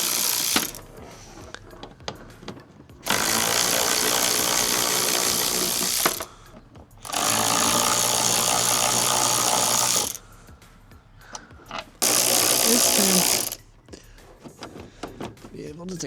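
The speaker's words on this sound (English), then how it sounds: "So we're gonna go ahead and take out these 4 bolts." A ratchet loosens 10mm bolts holding the taillights of a Nissan GT-R, coming in three loud, sustained bursts of rapid clicking, with someone talking quietly in the pauses between them.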